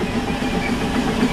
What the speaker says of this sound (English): The train now approaching platform 3 is not stopped here.